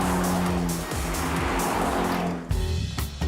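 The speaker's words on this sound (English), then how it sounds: "With prancing horse Ferraris, you and your dream team can experience the ultimate test drive" A Ferrari sports car drives along coastal roads near Wollongong, its engine a loud steady hum with tire noise, then an abrupt louder shift near the end.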